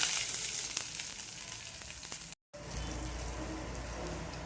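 Asafoetida, curry leaves and roasted corn sizzle in hot oil with a loud, crackling hiss that fades slightly, briefly cutting out midway before the steady frying resumes.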